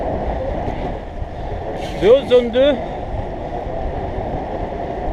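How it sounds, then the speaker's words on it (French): A south headwind blows across the microphone while cycling, making a steady low roaring buffet throughout. Someone speaks briefly midway over the wind noise. "là j'ai le vent de face, j'ai un vent du sud"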